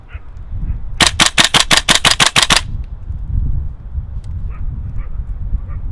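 A GHK Colt M4 CO2 gas blowback airsoft rifle fires a rapid burst of about nine sharp, loud cracks in quick succession, then quiet room tone follows with faint background noise.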